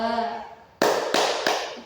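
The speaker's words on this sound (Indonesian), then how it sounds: "Angka 1 sampai 5 kita gunakan tepukan tangan." Three sharp hand claps follow a short spoken voice, spaced evenly at a steady counting pace, close and crisp in a quiet room.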